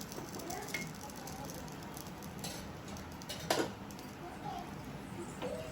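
Puran poli flatbread roasts on an oiled pan over high heat, giving a faint steady sizzle with a few light taps and scrapes, close by in a quiet kitchen.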